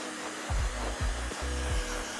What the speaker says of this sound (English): before starting my clipper work, I like to really dry off the hair